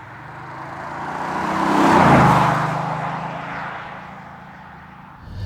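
A 2019 Audi S6 diesel drives through town in comfort mode, its engine and road noise swelling to a peak, then easing off as it moves smoothly along.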